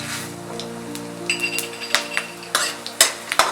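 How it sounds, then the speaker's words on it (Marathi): Cumin and coriander seeds frying in hot oil with whole spices in a pan for a Veg Maratha curry, with close crackling pops and sizzles and a few sharper spatters over a low steady hiss. "आता यामध्ये मी जिरा घालत आहे, आता धने घालत आहे"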